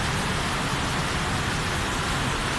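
Steady rainy-season rain falling in Phnom Penh, Cambodia, a continuous dense hiss of rainfall on surfaces that stays even and moderately loud throughout, with no voices.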